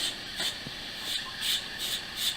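A knife blade is stropped back and forth on a bare forearm after block sharpening, giving soft, faint rubbing swishes in a steady rhythm of about five strokes, close by with no talking.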